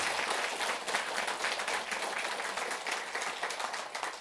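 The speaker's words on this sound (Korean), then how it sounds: "마지막으로 박수 한번 칠까요?" An audience at a Buddhist monk's talk breaks into applause, a continuous wash of many hands clapping at moderate distance, even and sustained throughout.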